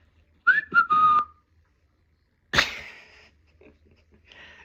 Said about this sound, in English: The whistle is hilarious